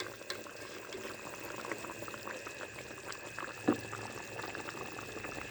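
Egg and potato curry bubbles at a steady boil as a ground cumin and black pepper paste goes in, the low simmer continuing evenly with one brief soft plop partway through.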